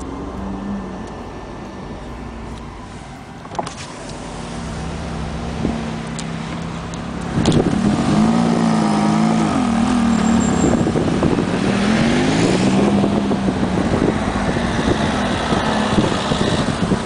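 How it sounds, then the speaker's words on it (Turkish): A diesel car engine idling and revving on a street, a low rumbling drone that grows louder partway through with rising and falling revs, alongside traffic noise. "Abi iğrenç dizel sesinle bizi bozmazsan sevinirim."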